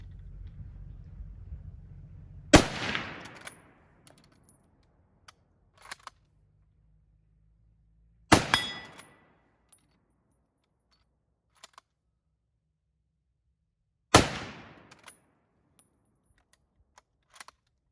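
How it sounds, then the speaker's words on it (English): Three single shots ring out from a Smith Corona 1903A3 Springfield rifle in .30-06, evenly spaced about six seconds apart. Each is a sharp, loud crack with a short decaying echo, with near silence between the shots. "So we're going to be firing the first 3 shots here, single loads"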